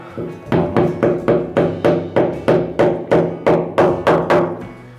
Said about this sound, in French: je vais utiliser un petit marteau